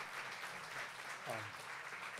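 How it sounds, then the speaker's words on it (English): Steady audience applause fills the room at a live show, a continuous wash of clapping with no gaps, heard from within the crowd. "Give him a round of applause,"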